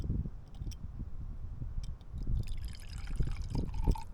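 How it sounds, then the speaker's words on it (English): Whiskey pours into a glass outdoors in a public park, a soft close trickling and gurgling that swells toward the end over faint background noise, with no talking. "let's go and pour myself another bev"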